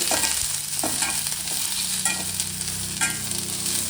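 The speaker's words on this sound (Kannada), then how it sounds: "ಇದನ್ನೊಂದು 2 ನಿಮಿಷ ಎಣ್ಣೆಯಲ್ಲಿ ಫ್ರೈ ಮಾಡ್ಕೊಳ್ಳೋಣ." Dry red chillies fry in hot oil in a pan for a Shivamogga-style greens dish, giving a steady, close sizzle with faint stirring scrapes and no talking.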